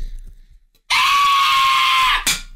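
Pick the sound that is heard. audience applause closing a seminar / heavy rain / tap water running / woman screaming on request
woman screaming on request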